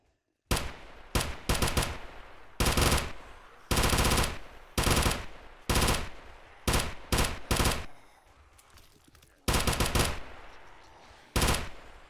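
Gunfire aimed at zombies in the video game 7 Days to Die comes as repeated loud bursts of rapid automatic shots with short pauses between them, a reverberant tail after each burst, and no voices.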